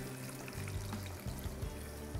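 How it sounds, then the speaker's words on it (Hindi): Full-cream milk poured into a pan of roasted ingredients for sheer khurma, a faint, soft trickling pour that runs on quietly. "इसमें हम डालेंगे दूध"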